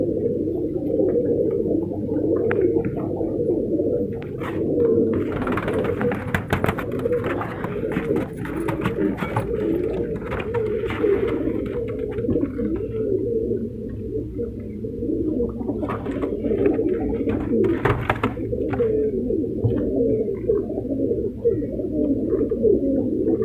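Multani pigeons cooing at a breeding farm, many birds making overlapping throaty, gargling coos in steady rounds close by, with occasional wing flutters and rustling in the lofts.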